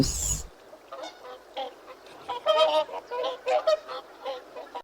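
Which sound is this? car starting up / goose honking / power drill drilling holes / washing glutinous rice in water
goose honking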